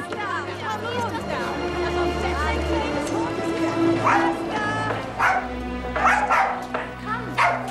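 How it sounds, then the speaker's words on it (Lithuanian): A small puppy yips, barks and whimpers in quick, uneven bursts close by, with people talking over and around it. "matėte Agatę su šuniuku"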